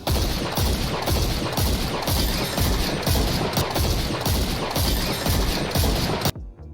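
Dead Man's Tale scout rifle firing with its maxed Cranial Spike perk in Destiny 2, a steady rapid string of loud, punchy shots in even rhythm for several seconds, ending abruptly with a brief tail.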